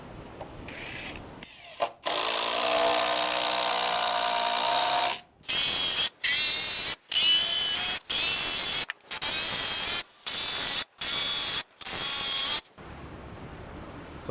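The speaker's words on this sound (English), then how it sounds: "I'm gonna put screws in the top and the bottom with where the studs that we added in" A power drill drives screws into new wall studs during framing, whining in long bursts with short pauses between them. The sound is loud and close, and no one speaks.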